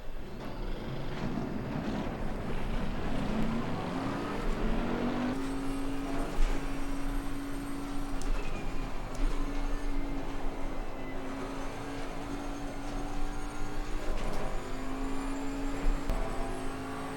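A race car in Assetto Corsa Competizione laps in practice, its engine note climbing and holding a steady tone through long pulls, with gear changes and shifts in pitch, loud and continuous throughout.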